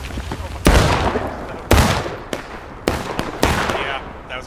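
Artillery in a Civil War battle game, several heavy booming blasts spaced about a second apart, each with a rumbling decay, over faint background talk.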